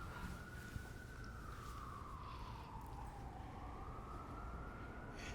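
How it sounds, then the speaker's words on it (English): A distant emergency vehicle siren in New York City wails faintly, its pitch gliding down and back up, partly buried in steady background noise. "Sirens, good sound effects for what I'm speaking."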